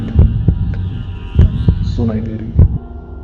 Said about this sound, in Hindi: धड़कन